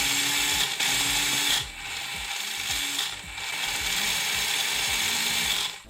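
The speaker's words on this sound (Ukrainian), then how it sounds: "І зараз я натисну на газ і буду викручувати трима швидкості на максимум." A small 4WD RC drift car styled as a Ford Fiesta ST runs its electric motor at full throttle, giving a loud, high mechanical whine with gear chatter that rises and dips in steady bursts close by.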